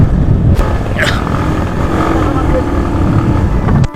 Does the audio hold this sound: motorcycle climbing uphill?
yes